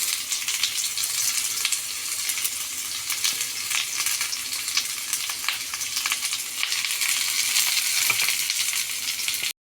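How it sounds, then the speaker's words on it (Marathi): Steady, loud hiss and crackle of spices and onion roasting on a hot griddle, unbroken throughout with faint scraping now and then. "इथे मी तवा ठेवलेला आहे मसाला भाजण्यासाठी"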